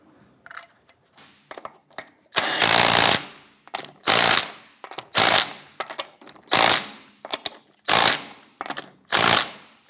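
Impact wrench snugging down lug nuts on a 1997-2006 Jeep Wrangler, firing in about six loud, close bursts of roughly half a second each, separated by brief quieter gaps with faint handling noises.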